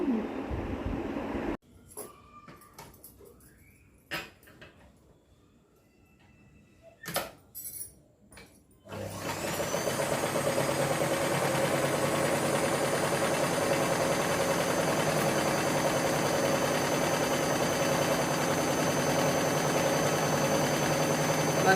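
A sewing machine fitted with an LED light attachment starts stitching after some brief clicks and handling, then settles into a steady, close mechanical whir that runs continuously to the end.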